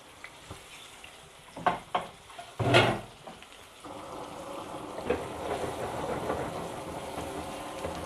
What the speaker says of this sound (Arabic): هننزل بالبصل.